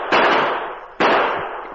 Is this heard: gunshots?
yes